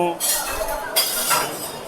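Steel dishes and utensils clink and clatter in short bursts during communal dish-washing service at a gurdwara langar in Manikaran, with a busy murmur of voices and running activity around them.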